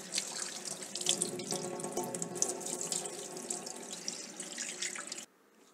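Tap water runs steadily into a sink while a fish is washed under it, a constant close splashing gush that cuts off abruptly near the end.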